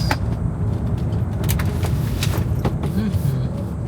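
A car drives along a winding mountain road on Geoje Island. Its low engine and road rumble hold steady from inside the cabin, with a few faint knocks and clicks.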